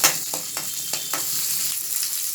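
Onion and cumin frying with coriander seeds for drumstick leaves sambar, a steady close sizzle with a few sharp stirring scrapes early on, no talking.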